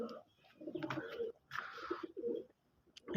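Domestic pigeons coo nearby in soft, throaty bursts, with pauses between calls and faint rustling in a quiet setting.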